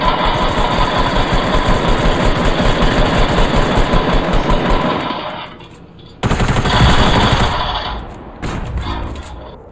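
Rapid automatic gunfire in Fortnite shooting down a player build, a loud sustained rattling burst that cuts out, then resumes in shorter choppy bursts.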